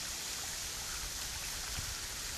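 Small waterfall at Waterfall Glen pours steadily over a low drop, a constant close wash of rushing water with no voices.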